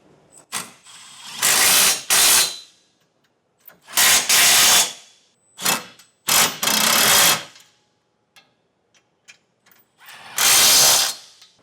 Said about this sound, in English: Now we can tighten those down with a 19 3/4 inch socket.